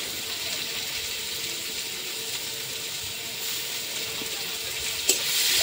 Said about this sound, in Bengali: এখন এটা ভাজা ভাজা হয়ে গেল